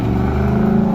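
1993 Camaro engine revving hard at an autocross event, loud and close, a sustained deep exhaust drone with strong low harmonics filling the moment.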